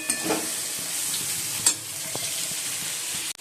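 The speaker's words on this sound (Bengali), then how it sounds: "উচ্ছে আলু ভাজা হচ্ছে" Bitter gourd and potato pieces fry in a pan, giving a constant close hiss of sizzling oil punctuated by a few sharp clicks and scrapes of stirring, with a brief knock near the end and no speech.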